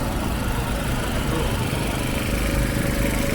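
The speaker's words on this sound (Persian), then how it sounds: "صدای موتور برق خیلی اذیت می‌کنه." An electric power generator runs in Rasht Municipality Square at night with a constant, fairly loud mechanical drone that holds steady and unbroken throughout.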